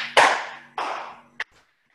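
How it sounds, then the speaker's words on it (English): Bare hands clap during a live online energy exercise, with two sharp claps and a softer third tap, fairly close and with nobody speaking. "And then clapping."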